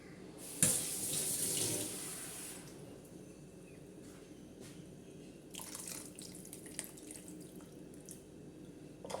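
Water poured into a cooking pan on a stove, a short burst of splashing and trickling near the start, then quiet drips and faint kitchen clatter.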